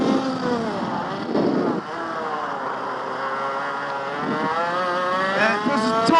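An IAME Parilla kart engine runs on track, a close, steady buzzing drone with rising and falling revs across the whole stretch and brief dips in pitch.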